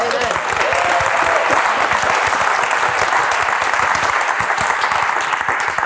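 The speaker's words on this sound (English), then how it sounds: "big round of applause for all of you" A room full of attendees at a real estate seminar claps loudly and continuously, a thick unbroken roar of hands that stays steady from start to finish.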